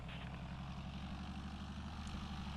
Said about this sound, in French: Augmentez la puissance du moteur pour reprendre une vitesse de croisière.